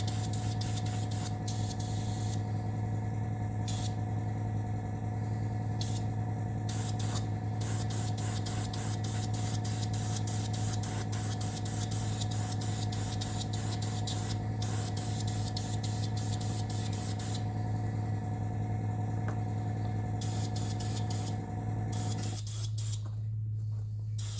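An airbrush sprays paint inside a scale model of a Russian Navy Project 955 Dolgoruky submarine, making a loud, steady, close hiss that runs unbroken for about twenty seconds before cutting off near the end.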